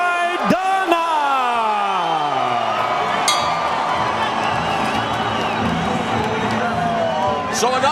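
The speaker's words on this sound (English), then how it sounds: "So a nice response from the crowd gathered here at the Alamo Dome in San Antonio, Texas" A large arena crowd at the Alamo Dome in San Antonio, Texas roars and whoops for boxer Marcos Maidana as he is introduced, a loud sustained cheer with shouts and an announcer's voice ringing over it.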